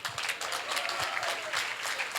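A Spanish-speaking church congregation claps along in quick rhythmic bursts, a moderately distant, steady patter of many hands with no talk over it.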